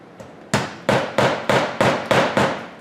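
Hammer blows drive nails into brittle roof shingles during a roof vent installation, six or seven sharp, evenly spaced strikes, close and loud with no talk.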